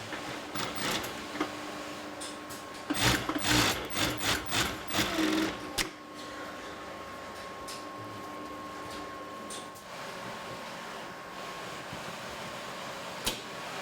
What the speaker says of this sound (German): Da werden die beiden Teile zusammengenäht.